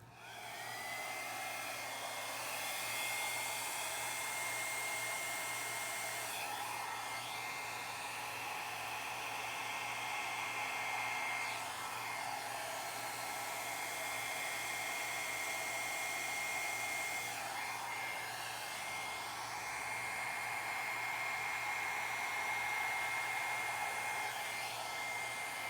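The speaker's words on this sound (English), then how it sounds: "Let's start with the hairdryer now." A hair dryer blows steadily across wet acrylic paint in a Dutch pour on a round wood panel with a bright aqua green base, a continuous close whooshing roar with slight swells in airflow, no talking.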